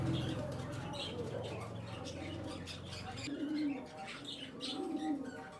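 High flying pigeons in a low-budget sale lot coo softly and repeatedly at close range, with light chirps and shuffling while people talk nearby.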